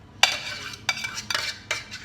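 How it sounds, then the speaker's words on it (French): A utensil stirs a strawberry mixture with dissolved gelatin in a bowl, giving a few distinct clinks and scrapes at irregular intervals, close and moderately loud, with no voices. "On vient remettre dans l'autre partie de fraise."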